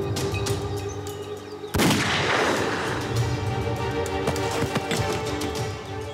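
A single sharp gunshot cracks out in a tense TV drama scene, loud and close, and its blast then rolls away into a long, rumbling decay over a busy, noisy background.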